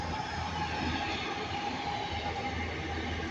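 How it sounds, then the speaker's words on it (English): A Class 323 electric multiple unit pulls into Handforth station on an Alderley Edge service, giving a steady rumble with faint wheel and rail noise and an electric whine, close and continuous throughout. "we've got an Alderley Edge service arriving, worked by 323231"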